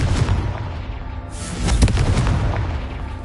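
Confringo fire spell blasts in the game Hogwarts Legacy, a dense booming burst that swells loud about halfway through and rumbles on with a broad crackling roar, no talking.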